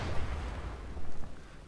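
Explosion rumble from the open-world action game Just Cause 3, heavy low boom with a second swell about a second in, short and fairly loud with no talk over it.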